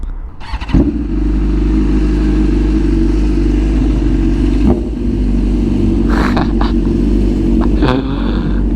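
A BMW S1000RR sport bike fitted with a loud custom exhaust revs hard right up close, its engine roaring steadily with sharp throttle blips and crackles, while someone talks over it.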